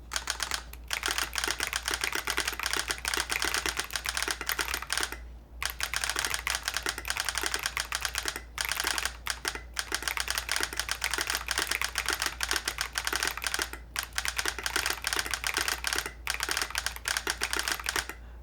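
A Smurve80 mechanical keyboard kit with a solenoid is typed on continuously, producing dense rapid clacks layered with solenoid thumps, with a few short pauses and a low steady hum beneath.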